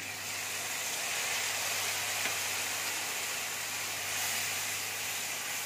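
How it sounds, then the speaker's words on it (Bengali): Spice masala for bottle gourd kofta fries in a pan, giving a steady, even sizzling hiss that runs unbroken at moderate loudness over a low background hum. "ভালো করে মশলাটা ভেজে নেব।"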